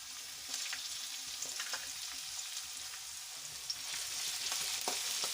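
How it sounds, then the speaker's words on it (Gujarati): Chopped garlic sizzles in hot oil in a pan, a steady crackling fry with sharp spitting pops throughout. "આપણું તેલ ગરમ થઈ ગયું છે તો એમાં હું મોટી 2 ચમચી લસણ ઉમેરીશ"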